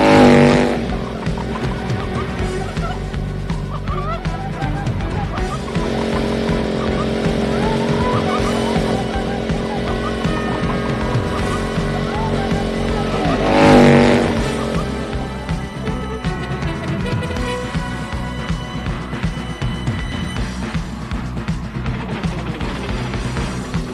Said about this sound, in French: Des scooters des neiges, les chasseurs de phoques.